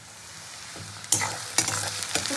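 Chopped onion frying in a pan for a fish bhorta: a steady soft sizzle with sharp stirring scrapes and bursts of crackle as the pieces are turned, no voices.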